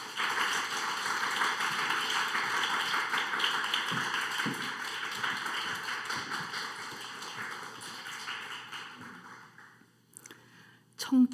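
Church congregation applauding at a Sunday service to welcome the preacher, a steady dense wash of clapping that holds for about nine seconds before thinning out and stopping, with a brief thump near the end.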